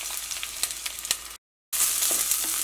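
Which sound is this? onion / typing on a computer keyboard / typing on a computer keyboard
onion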